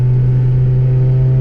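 Car engine on a race track at an Argentine track day, a loud steady low engine drone with a strong hum, heard up close and alone.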